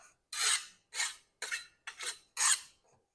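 A cake scraper rasps across buttercream frosting on a cake in five evenly spaced strokes, each a soft, close scraping swipe separated by brief silences.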